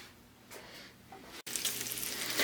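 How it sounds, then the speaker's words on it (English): Bacon frying in an HEB cast iron ceramic-lined skillet, a soft steady sizzle that cuts out briefly and then swells into louder, brighter crackling and spitting. "it's in the skillet and frying"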